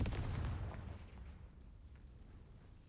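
A Confringo fire spell blast in the game Hogwarts Legacy, heard as a single loud, deep explosive boom at the start that decays into a rumbling tail over a few seconds.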